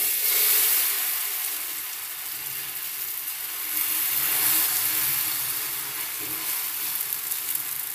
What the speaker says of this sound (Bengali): দেখুন এপিট ওপিট করে লাল করে ভেজে তুলে নেব